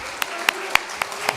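At a book launch event, a short burst of evenly spaced claps honours a guest's wife, with a voice audible alongside.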